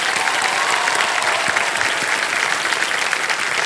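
Studio audience on a televised quiz show giving loud, sustained applause, dense clapping from a large crowd filling the whole stretch without any talk over it.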